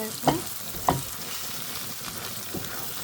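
Eggs stirred into pasta in a hot pan give a steady frying sizzle, with a few sharp spoon-scrape clacks near the start and a softer one later, no voices.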